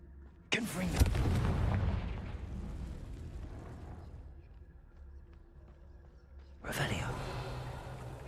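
Confringo blasting spell in Hogwarts Legacy: a sudden loud explosive boom with a long rumbling decay, followed by a second sharp burst near the end, with game sounds beneath.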